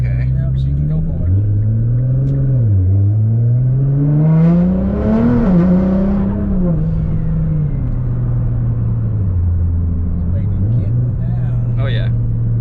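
An 800 whp Nissan GT-R with an upgraded turbo setup accelerating hard, a steady engine drone whose pitch climbs and dips through gear changes and holds for about twelve seconds at moderate loudness.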